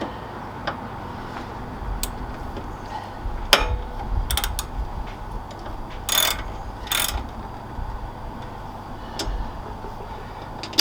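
A socket ratchet tightens a bolt on a motorcycle pannier guard on a 2021 Harley-Davidson Sport Glide, giving short bursts of rapid clicking with scattered metallic clunks over a quiet background.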